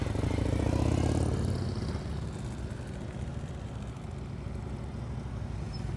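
A motorcycle creeps along at slow speed during an advanced riding practice session in North Carolina. A steady low engine rumble is mixed with heavy wind buffeting on the microphone, strongest at the start and then easing slightly.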